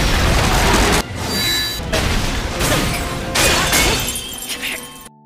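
Anime fire magic spell, Fire Blizzard, cast by beginner magicians in battle: a loud sustained burst of crackling, roaring blasts with shattering impacts and whooshing surges, several waves over about five seconds with no talking.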